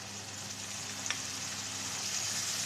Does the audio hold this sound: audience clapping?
no